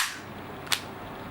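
A KJ Works MK1 non-blowback BB pistol fires once in double-action, one sharp, close crack standing out from quiet background hiss.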